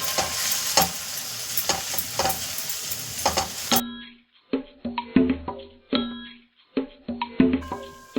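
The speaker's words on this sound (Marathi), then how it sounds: "आता आपण हे हलवून घेत आहोत, परतून घेत आहोत" Homemade masala sizzles in a hot pan for an Agri Koli prawn curry while a spoon stirs and scrapes it, giving a loud frying hiss with rhythmic scraping strokes. The sizzle drops away partway through, leaving sharper, separate clanks and scrapes.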